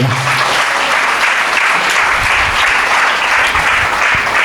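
A church congregation claps together at a prayer-gathering finale, loud, dense, sustained applause filling the room for several seconds without letting up.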